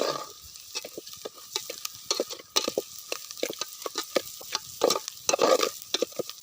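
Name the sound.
stirring eggs into spice masala for egg biryani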